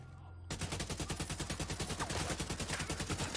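Gunfire in The Division 2 comes as a rapid automatic burst, fairly quiet, with evenly spaced shots that start abruptly and continue steadily for about three seconds, alone.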